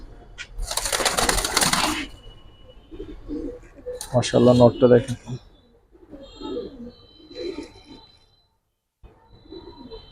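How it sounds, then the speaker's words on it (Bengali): Pigeons coo in bursts, near and moderately loud, interleaved with someone speaking, in a loft of red-legged silver Giribaz breed pigeons. "ম্যাক্সিমাম কবুতর এখন আসলে ক্রুজের সময় হয়"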